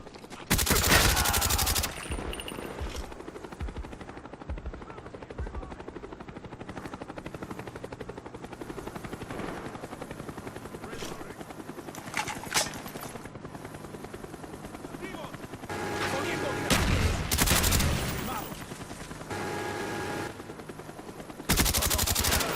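Cobra attack helicopter in a video game firing bursts of gunfire over a steady rotor drone, with loud volleys at the start, mid-section and end and continuous engine noise between.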